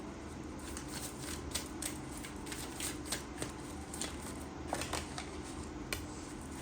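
A deck of tarot cards being shuffled by hand: soft, continuous riffling and flicking at close range, quiet and steady without any talk.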